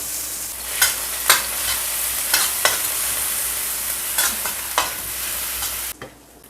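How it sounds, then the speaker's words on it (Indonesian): Nasi goreng fried rice frying in a pan while being stirred, a steady close sizzle with several scraping stir strokes, stopping abruptly near the end. "Goreng, membuat nasi goreng."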